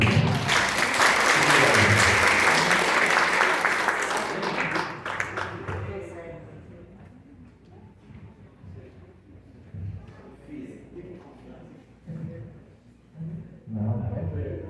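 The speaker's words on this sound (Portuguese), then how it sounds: "Aplaudamos o Otacílio" An audience at a gathering breaks into loud, dense applause that fades out after several seconds, leaving scattered claps, murmurs and voices talking in the room.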